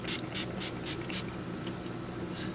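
An Urban Decay All Nighter setting spray gives five quick, evenly spaced bursts of fine mist close up, then two fainter puffs over a low background hum.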